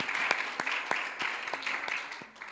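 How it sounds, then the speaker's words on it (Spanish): A church congregation applauds during a Sunday sermon, a dense and fairly loud spread of many hands clapping with sharper individual claps cutting through. "Dele el aplauso que no es para mí"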